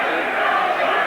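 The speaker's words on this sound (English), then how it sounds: "the Chinese Taipei section of the crowd coming alive once again" Crowd noise from the Chinese Taipei fan section at an international baseball game between Cuba and Chinese Taipei, a steady, dense roar of many voices rising and swelling throughout, with no single voice standing out.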